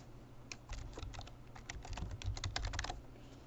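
Rapid typing on a computer keyboard to re-enter text, a dense close run of clicks lasting a few seconds over a low background hum, with no voices.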